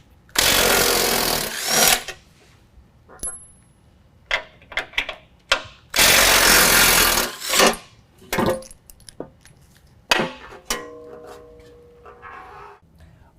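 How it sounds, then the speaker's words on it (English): A power tool with a 13 millimeter socket removes two skid plate bolts on a 2019 GMC Sierra 1500 during a lift kit install, with two long loud rattling impact bursts, then shorter clanks and handling noises nearby. "I'm gonna go ahead and use that same 13 millimeter, remove these 2 bolts so I can drop this skid plate."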